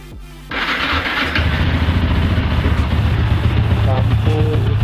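A Yamaha Vixion R motorcycle engine cranks briefly on the electric starter, then catches and settles into a loud, steady close-range idle.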